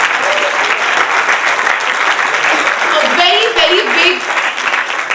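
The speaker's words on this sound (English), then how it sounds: "A very big applause of gratitude to Swarupa ma'am for teaching, training them, putting all of this together" Audience applause after a university student play, dense and sustained clapping from a large crowd with a few voices rising through it near the end.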